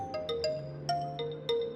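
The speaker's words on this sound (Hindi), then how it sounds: "ये सुबह सुबह किसका फोन आ गया?" An incoming call rings on a phone with a repeating melodic ringtone of short chiming notes, clear and fairly close, with no voices.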